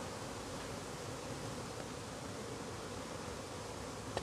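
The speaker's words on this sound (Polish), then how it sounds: "Pszczoły brzęczą." Bees buzz in a garden as a faint, continuous hum blending into quiet outdoor background noise, steady and unbroken with no talking.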